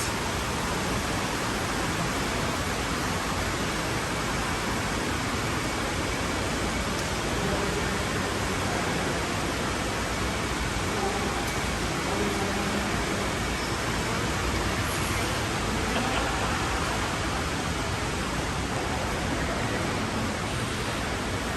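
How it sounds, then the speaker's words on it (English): Indoor water feature in a shopping mall, its water rushing loud and steady like a waterfall, a constant broadband roar that stays close for the whole stretch and drowns out everything else. "It's just another wall or water feature that I'm walking past."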